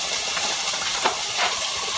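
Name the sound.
diced onion thrown into hot skillet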